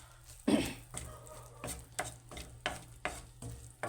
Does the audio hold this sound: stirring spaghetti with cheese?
yes